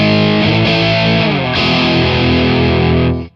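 An electric guitar runs through a high-gain Kiesel Hyperrig with reverb, a loud, heavily distorted sustained chord shifting a couple of times before being cut off sharply, its reverb tail briefly trailing out.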